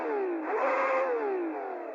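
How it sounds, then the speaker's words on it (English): An Aston Martin Valkyrie's V12 engine in a racing video game holds a high, steady whine that dips and rises slightly in pitch, loud and continuous for two seconds with no talk over it. "That's the sound of a V12 right there."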